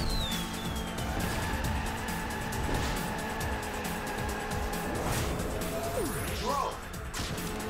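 Racing game crash in Sonic & All-Stars Racing Transformed, a kart slamming into a trackside wall amid a dense wash of engine roar, music and game effects, with a brief skid squeal later on.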